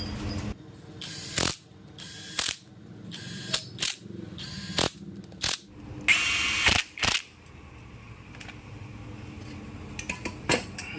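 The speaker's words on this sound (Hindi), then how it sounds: "सबसे पहले इस वाले बोल्ट को ही हम लगा के टाइट कर देते हैं ताकि ये मिस ना हो पाए" A ratchet tightens the clutch cover bolts on a TVS Apache 200 4V motorcycle, heard as a series of short, close, rapid clicking bursts separated by brief pauses, with one longer burst midway and fainter clicks toward the end.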